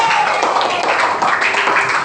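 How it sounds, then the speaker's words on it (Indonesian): Classroom students applaud together in a dense, steady burst of clapping, a close and fairly loud crowd sound that fills the short moment without any speech over it. "Tepuk tangan buat kita semua dulu"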